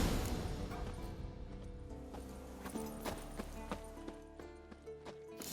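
Horse hooves clip-clopping in The Witcher 3 video game, a steady run of close hoof strikes over a low ambient bed with game music, with no talking.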